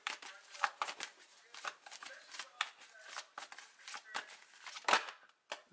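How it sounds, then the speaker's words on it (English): A deck of angel answer oracle cards is shuffled by hand, giving quiet, close riffling and flicking bursts that repeat irregularly throughout with no voices. "I'm going to pull some angel answer cards"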